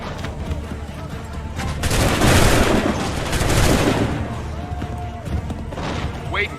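Musket volley in Assassin's Creed III, a dense crackling burst of many shots merging into a loud roar that swells and fades over a few seconds, with voices shouting beneath.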